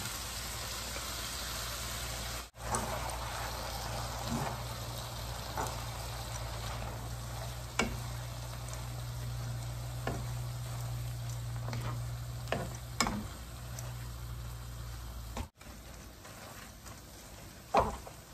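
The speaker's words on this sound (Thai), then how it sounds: "ใส่เส้นเลยนะคะใบนูเดิล แอดผัดไทยซอสนะคะลงเลยค่ะ" Rice noodles stir-fried with pad thai sauce in a hot pan, a steady close sizzle running throughout, with occasional scrapes and knocks of stirring and a low background hum, no talking.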